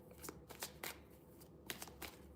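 Tarot cards being shuffled in short riffling bursts, close and fairly quiet, with brief pauses between bursts and no voices.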